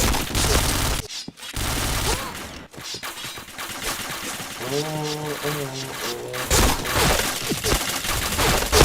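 Gunfire in a shooter video game comes in rapid bursts and single shots with sharp cracks and gaps between, while a voice speaks over the action.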